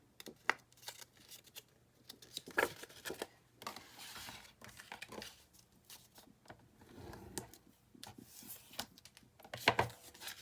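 Paper being creased and folded along scored lines while assembling a Halloween-themed 6x6 quad folio album, with soft intermittent rustles and crisp crinkles, faint and close.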